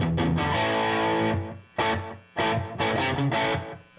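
Electric guitar played live with a distorted tone and a slapback delay, loud sustained chords and short stabs answered by a quick single echo, with no talk.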